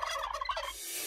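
A turkey gobbles in a quick, rattling burst in a radio advertisement for Romanian turkey meat, fairly close and clear, then fades into a soft hiss.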